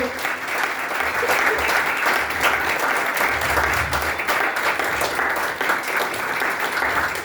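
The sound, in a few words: church congregation applauding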